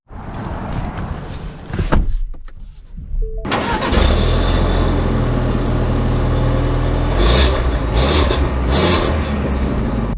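A 2023 Ford Explorer Timberline with a door thud and interior rustling, then the engine cranks and catches and settles into a steady, close idle hum that rises slightly as it pulls away.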